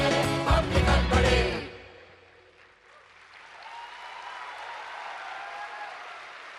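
A campus audience at a university golden jubilee celebration claps briefly, a burst of many hands that fades into a quiet room with soft, distant murmur.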